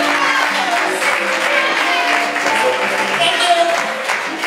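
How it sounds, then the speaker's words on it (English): Audience at a poetry open-mic night applauds steadily and loudly throughout, a dense continuous patter of clapping with voices mixed in. "keep clapping for Maddie."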